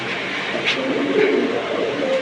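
Pigeons cooing in a cage, soft low throaty coos close by, with faint background voices and rustling.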